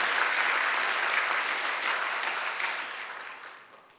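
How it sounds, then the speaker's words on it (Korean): A church congregation applauds a children's choir after their hymn during a worship service, a dense wash of clapping that holds steady and then tapers off toward the end. "우리 찬양해 준 어린이들을 위해 박수 한번 합시다."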